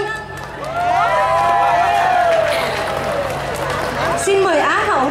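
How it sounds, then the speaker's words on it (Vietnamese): An audience at the Ao Dai pageant in Sacramento, 2015, applauds a contestant with loud, sustained crowd noise full of cheers and whoops, filling the room for several seconds. "Xin quý vị cho một tràng pháo tay"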